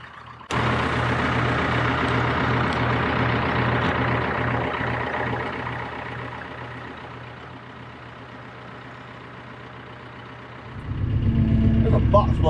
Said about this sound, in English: We're going to go play truck driving.